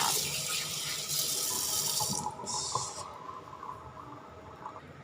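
Tilapia being washed clean under a running kitchen tap, with a steady rush of water that surges loudly for a couple of seconds and then eases into softer trickling and handling noises, close by with no talking.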